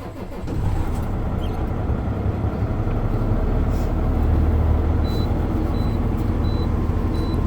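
A truck's diesel engine, started during a CDL cab inspection, cranks and catches, then settles into a loud, steady, low rumbling idle with faint high beeps near the end.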